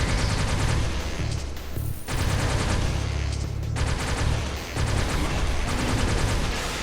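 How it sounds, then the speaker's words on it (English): A plasma rifle in the PC shooter Wrack fires in rapid, continuous bursts, with loud repeating electronic shots broken by two short pauses and punctuated by heavier booms. "this gun is straight up the plasma rifle from Doom"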